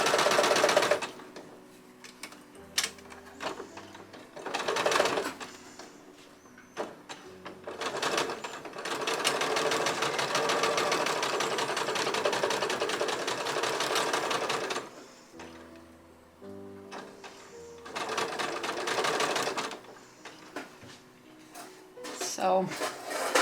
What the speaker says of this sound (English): I'm just going to start gently sewing it all together.